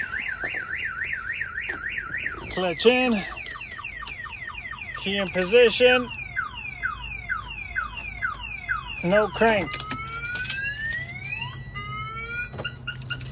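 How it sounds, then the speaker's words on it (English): A 2013 Subaru WRX STI's aftermarket car alarm, triggered by a door, blares through several cycling patterns of warbling and whooping tones, loud and close, while a person speaks briefly over it. "If you unlock it like that and you don't release your alarm, it's gonna go off."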